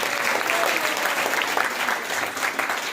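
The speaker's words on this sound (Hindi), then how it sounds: "अच्छा क्वेश्चन, ताली बजाओ।" A seated audience at a spiritual question-and-answer gathering claps together: dense, continuous applause from many hands that holds steady throughout.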